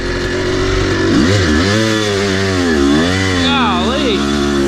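Kawasaki KX250 dirt bike engine revving hard and wavering in pitch as the rear wheel spins on slick ground, loud and close throughout.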